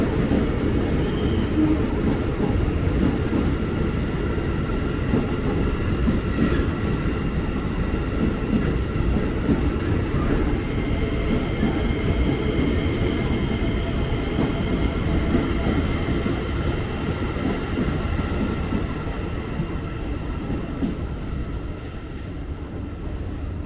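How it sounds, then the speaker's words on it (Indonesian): A KRL electric commuter train departs Depok Station, Indonesia, rumbling steadily with a continuous mechanical hum and faint rail clatter, gradually easing as it pulls away. "si KRL udah berangkat"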